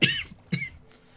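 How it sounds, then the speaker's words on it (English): Two sharp coughs about half a second apart from a single person, close and fairly loud, the second a little weaker, with quiet background after. "I'm coughing"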